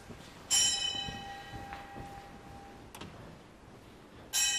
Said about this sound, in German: werden die jungen Mönche mit einer Glocke geweckt